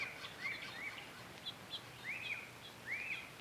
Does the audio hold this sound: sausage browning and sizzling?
no